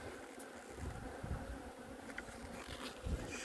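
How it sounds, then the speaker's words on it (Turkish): A dense, steady buzzing of many honey bees close by in an open hive, humming continuously with slight swells in loudness and no voices. "Şöyle burada biraz daha yoğun bir arı nüfusumuz mevcut."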